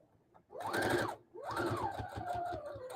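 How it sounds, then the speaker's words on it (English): A sewing machine back stitches a keyfob in two short runs, a first burst of whirring motor and rapid needle clatter, a brief pause, then a longer run that holds steady, close and clear with no talking. "So I made a few stitches. I'm back stitching."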